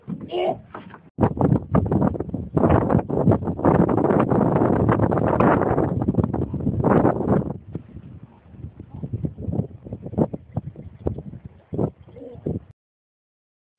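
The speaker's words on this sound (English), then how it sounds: "That was some pretty nice wind, wouldn't you say?" Gusting wind buffeting outdoors, heavy rumbling roar for several seconds that fades into intermittent softer gusts and knocks, close and loud against the microphone.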